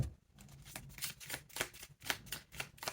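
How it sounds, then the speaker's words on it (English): Tarot cards shuffled by hand in a quick, riffling series of soft papery flutters and taps, close and fairly quiet, with no voice. "I'm going to shuffle."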